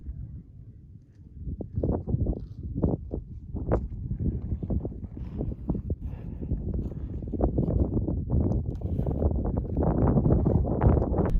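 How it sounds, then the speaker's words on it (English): Strong wind buffets the microphone in continuous gusts on the summit of Grays Peak, a Colorado fourteener, a rough roaring rush that grows louder toward the end, with no voices. "It's pretty windy up here, but not terrible."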